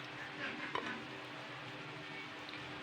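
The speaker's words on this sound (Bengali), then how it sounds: "এইভাবে কষলে নেবো আলুগুলো" Boiled potatoes sauté in a pan with a faint, even sizzle, and a couple of light spatula scrapes come through near the beginning.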